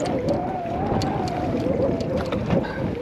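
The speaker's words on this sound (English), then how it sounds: "That seems like a bigger gust than 33 to me" Steady roar of strong wind gusting across open water around a small boat, broadband and continuous for the whole stretch, with faint water sloshing and no talk.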